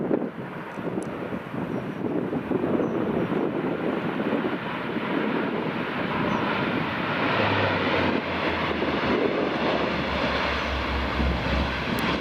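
Sunwing airliner on landing approach at Aberdeen Dyce Airport, a steady broadband jet roar with a low engine rumble building toward the end, heard alone with wind buffeting the microphone.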